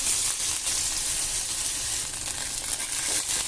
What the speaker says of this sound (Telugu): ఇలా చిన్న ముక్కల కింద కట్ చేసుకుని ఇలా వేడయిన తర్వాత ఆయిల్లో వేసుకోవాలి.